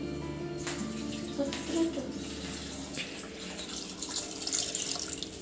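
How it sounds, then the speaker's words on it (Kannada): Water being poured over sugarcane pieces in a pressure cooker, a splashing gush that trails off into drips and trickles, close and fairly quiet. "ಸ್ವಲ್ಪ ಮುಳುಗುವಷ್ಟು ನೀರು ಹಾಕಬೇಕು."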